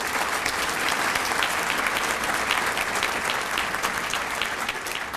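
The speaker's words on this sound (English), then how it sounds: "I think that deserves a round of applause for these schools" An audience at the Arlington school district's State of the District event gives a sustained round of applause for the schools, dense and even clapping from many people throughout.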